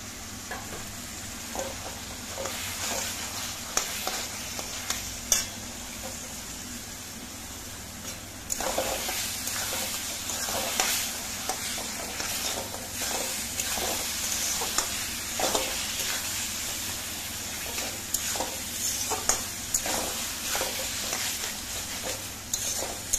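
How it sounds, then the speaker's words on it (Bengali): Boiled, peeled eggplant frying in a pan with cooked-down onion, garlic, peas, tomato and spices, a continuous sizzle broken by repeated scraping stirs throughout, close and fairly loud. "এবার আমি সিদ্ধ করে খোসা ছাড়ানো বেগুনটা দিলাম।"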